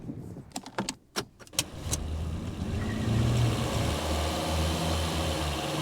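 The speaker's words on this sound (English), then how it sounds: "capturing engine sounds or car sounds" Car engine captured by a microphone mounted under the hood, a few sharp clicks and clunks first, then a steady loud rumbling idle with a low hum that swells slightly, no talk.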